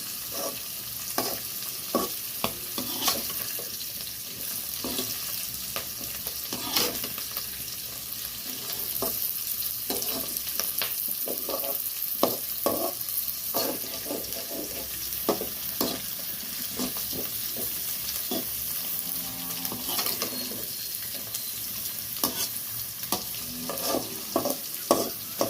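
Pirandai (veld grape) is sautéed in a pan for a thuvaiyal, with a steady, moderate sizzle running throughout and frequent small scrapes and taps of stirring, with no one talking.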